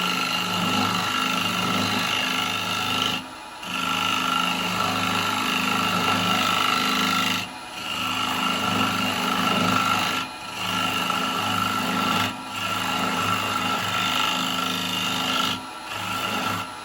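A spindle gouge cuts a natural edge wooden bowl spinning on a lathe, taking off the foot with a steady scraping, rasping hiss and a low hum. A few brief pauses break it as the tool lifts from the wood.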